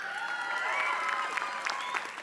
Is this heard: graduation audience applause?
yes